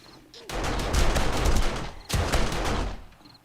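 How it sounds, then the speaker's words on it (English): Automated turrets fire at zombies in the survival game 7 Days to Die, two loud sustained bursts of rapid gunfire separated by a brief pause, with no speech. "Those turrets are badass."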